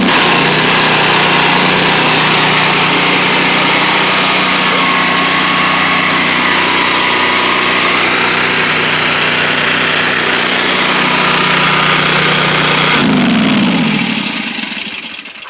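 A Predator 670 engine fitted to a power washer runs loud and close at a steady high idle, a dense unbroken roar that drops away as it shuts off near the end.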